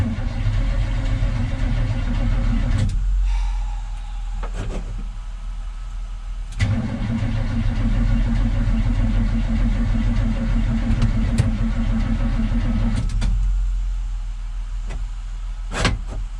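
An old car that is a hard starter, with a suspected torque converter or flex plate fault, churns in several loud, close bursts of rough engine noise broken by short pauses.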